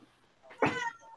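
A domestic cat gives a single short, close meow, a brief bright rising cry against a quiet room.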